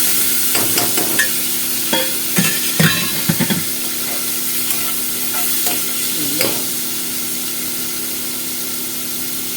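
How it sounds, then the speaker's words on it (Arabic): Chicken gizzards fry in a pan while being stirred. Clattering scrapes of a utensil come in bursts over a constant bright sizzle, then ease into a steady frying hiss. "هنقلب بقى القوانص كده بس تاخد تقليبه اهو"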